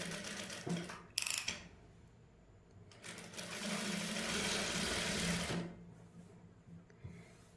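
A sewing machine stitches a neckline onto a garment in short bursts and one long steady run, whirring close by between quiet pauses, with no talk.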